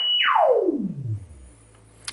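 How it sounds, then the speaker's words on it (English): A self-oscillating analog modular synth filter produces a pure sine tone that sweeps smoothly downward from high to low pitch, then settles into a faint low hum, with a brief high whine near the end. "So it's basically making a sine wave. It's self-oscillating."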